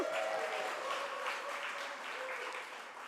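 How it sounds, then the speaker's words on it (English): Audience applause at a banquet, steady dense clapping filling the room throughout, fairly distant with a faint whoop early on. "I really do love the applause."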